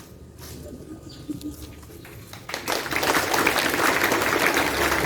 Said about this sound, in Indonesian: kita berikan tepuk tangan untuk peserta lomba debat bahasa Indonesia